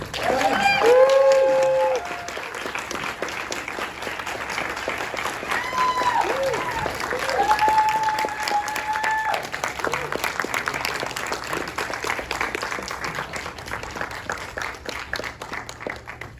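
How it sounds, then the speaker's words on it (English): Audience applause fills a room at a Q&A screening of the film L.A. Story with director Mick Jackson: sustained, dense clapping that swells loudest at the start, then continues steadily with a few brief tonal sounds on top. "Big round of applause."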